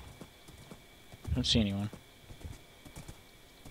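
Horse hooves clip-clopping in Minecraft Survival Games, a short close burst of clopping and a whinny-like call around the middle, with a player talking over steady background noise.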